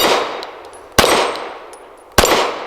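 BUL Armory Ultralight PRO pistol firing PMC Bronze 124 grain rounds, two sharp loud shots about a second apart, each followed by ringing echo and faint metallic clinks.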